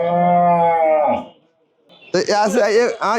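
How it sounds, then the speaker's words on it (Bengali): A Friesian dairy cow gives a long, loud, close moo that fades out, followed after a short pause by a voice talking nearby. "এগুলা গরু আমাদের চলে যাচ্ছে"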